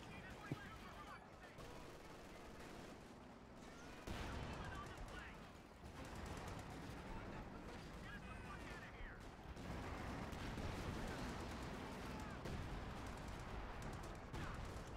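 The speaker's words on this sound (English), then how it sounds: "Watch out, that major artillery" Heavy artillery and mixed gunfire rumble through a Company of Heroes 2 battle, dense continuous booms and crackling at mid distance with voices talking over them.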